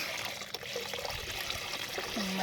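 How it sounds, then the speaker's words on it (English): Beer poured through a colander while brewing a bourbon barrel porter kit, a steady splashing, trickling stream of liquid, close and continuous. "pour the beer through the colander while holding the phone"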